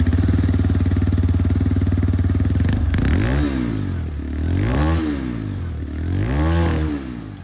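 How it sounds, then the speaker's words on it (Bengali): A TVS Raider 125 motorcycle idles with a steady, throbbing exhaust note, then is revved several times in rising and falling blips, close and loud with no talk. "এবার বাইকের এক্সস্ট নোট চেক করা যাক"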